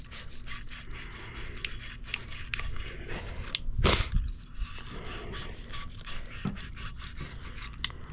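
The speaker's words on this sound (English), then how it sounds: "Clean them out with our wire brush." A wire brush scrubs rear brake caliper parts on a Kia, making quick, close, rhythmic scraping strokes that repeat steadily, with one louder scrape partway through.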